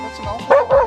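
A dog at an off-leash dog beach gives two short yipping barks close by, each a quick bright burst with a whimpering edge, separated by a brief pause.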